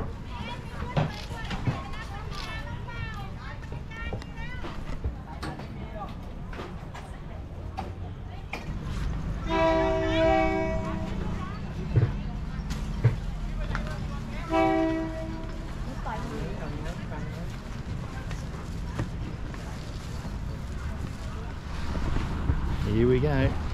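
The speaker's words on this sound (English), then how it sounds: "The train to come back through again." A train rolls through a Thailand train market, a low rumble under crowd chatter, with two sounds of a horn partway through and people talking nearby throughout.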